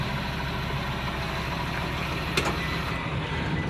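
A 2004 Blue Bird 48-passenger school bus with a CAT diesel engine running at high idle, a steady, rumbling, throbbing drone heard close up with a brief click partway through.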